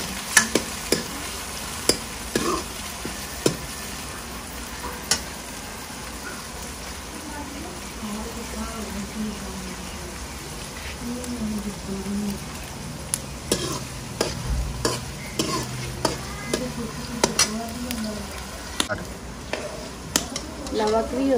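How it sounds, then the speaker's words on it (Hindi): Onions frying in a pan for Punjabi saag, a continuous soft sizzle punctuated by regular spoon taps and scrapes, with someone talking over it at times. "प्याज में भी चंगी तरह भून लवेंगे।"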